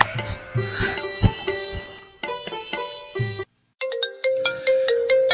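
A mobile phone ringtone plays loud and close as a bright repeating electronic melody, stopping briefly once before starting again, with no talking over it.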